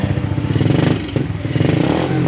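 Honda XRM 110 motorcycle engine running after an ignition fault is fixed, a close, steady single-cylinder putter with quick pulsing rhythm and slight rev rises.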